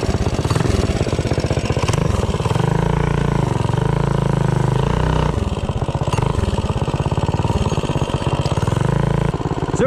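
A minibike powered by a Predator engine running a stock ignition coil accelerates hard from a standstill to about 30 mph, its loud, buzzing single-cylinder note droning steadily close by with brief dips as the throttle eases, no talking over it.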